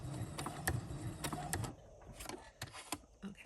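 A sewing machine stitching across a shaker charm tag, a close mechanical whir with rapid rhythmic ticking that slows and stops partway, quiet with no talk.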